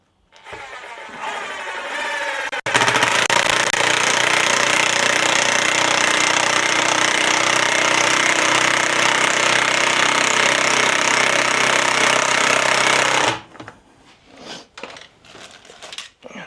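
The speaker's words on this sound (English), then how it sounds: "that's just with a little 1/4-inch impact" A small 1/4-inch impact wrench hammers loudly and continuously for about ten seconds, driving bolts into a double bead-lock wheel, then stops abruptly, leaving quieter handling clatter.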